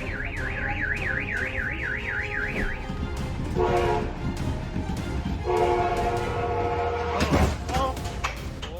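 A train speeds down the line past a pickup parked close to the tracks, sounding short loud horn blasts, while a warbling alarm-like siren wails steadily at first over a continuous rumble.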